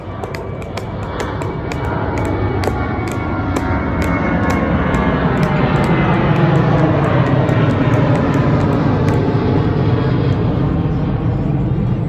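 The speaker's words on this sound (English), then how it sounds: "That's an airplane above. We're at Burbank, so we're near Burbank Airport." A fixed-wing airplane passes overhead near Burbank Airport, a loud, sustained engine roar that swells and holds throughout, with no talking.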